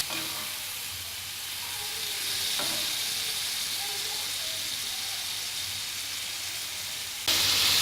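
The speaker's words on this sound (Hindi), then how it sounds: "तो देखें बहुत ही मज़े की फ्राई हो रही है" Mutton liver sizzles steadily as it is stir-fried on a tawa over medium heat, giving a continuous close frying hiss throughout with a brief louder burst near the end.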